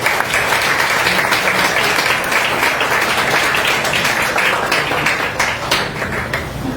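Steady, loud applause from the audience at a literary talk and book presentation, a dense wash of clapping that holds for several seconds without pause.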